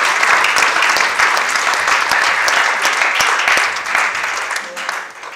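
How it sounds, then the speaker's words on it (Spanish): A church congregation applauding during a Monday evening service, loud continuous clapping from many people filling the room, with some voices mixed in under the applause. "Puedes darle ese aplauso al Señor"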